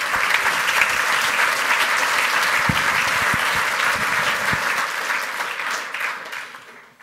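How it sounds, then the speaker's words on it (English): A room full of people at a conference talk clapping steadily for several seconds, loud and sustained, then gradually tapering off at the end. "give these guys a round of applause because coding's not easy"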